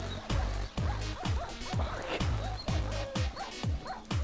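Dogs yelp and whimper repeatedly in a video game while burning in a wooden house fire, a rhythmic series of loud pained cries roughly twice a second over low rumbling game sound.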